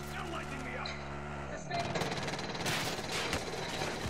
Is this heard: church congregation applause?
no